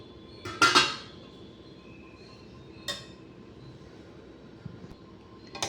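Chicken curry served onto a plate with a spoon, giving a few sharp clinks of metal against the dish, spaced apart in a quiet room with no talking.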